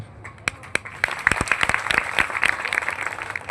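An audience at a Guru Purnima 2025 event applauds, scattered claps at first building into steady, fairly close clapping that continues to the end.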